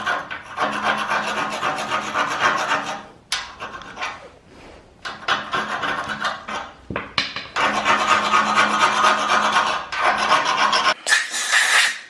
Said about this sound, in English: I've just got that little bit of a chisel or a punch and I'm just going to scrape it out